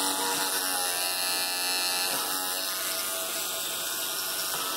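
A new electric toothbrush buzzes steadily and loudly at close range for the whole stretch. The hum stays even throughout, with no voices over it.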